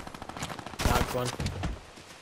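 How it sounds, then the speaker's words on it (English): Minigun fire in a video game: a loud, rapid burst of whirring automatic shots rises in the middle and fades, with brief quieter firing before and after. "Mini guns going off somewhere."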